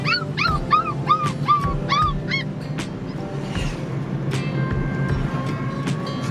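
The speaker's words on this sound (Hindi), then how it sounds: "और पीछे कुत्ते जो हैं वो बिल्कुल भी शांत नहीं हो रहे" Several dogs bark and yelp repeatedly at the start, loud and fairly close behind a car driving between Ludhiana and Himachal, then the barking thins out over a steady road rumble.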